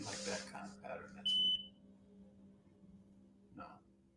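An electronic smoke alarm gives one sustained high beep in an odd pattern, loud and close, after brief voices, then a quiet room with a faint later chirp.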